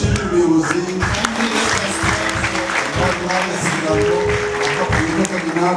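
Sustained applause fills a church anniversary gathering of the Evangelical Covenant Church of Rwanda, a thick continuous patter of many hands, loud and near, steady for nearly six seconds.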